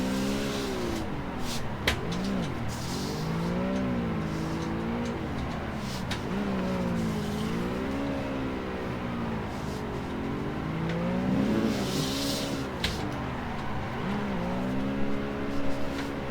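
A car drifts with repeated clutch kicks, its engine rising and falling in wavering revs over about sixteen seconds, with occasional sharp clicks and a steady roar heard from a moderate distance.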